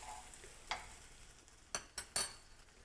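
Butter is stirred in a pan on low heat, giving a faint, steady sizzle broken by a few sharp clinks of a utensil against the pan, quiet and close, with no voices.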